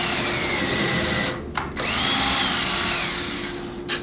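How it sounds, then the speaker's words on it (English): A power drill countersinking a screw hole in a frame, a loud steady whine that cuts out briefly twice, resumes, and winds down near the end. "Or you can countersink it"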